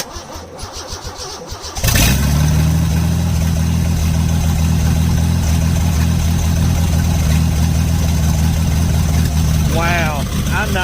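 A 1977 Ford F-250 Supercab's engine cranks, then catches about two seconds in and settles into a loud, steady running rumble, with a voice heard briefly near the end.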